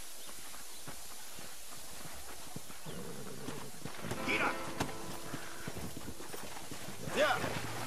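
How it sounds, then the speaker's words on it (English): Horse hooves clip-clop in the Red Dead Redemption video game, a steady walking rhythm under game music and a voice, with a horse snort or whinny rising near the end. "horses are over here"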